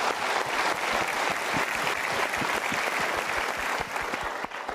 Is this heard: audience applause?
yes